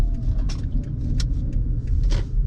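A car rolls slowly into a drive-through lane, a low steady engine rumble from inside the cabin with a few light clicks and rattles, no talk.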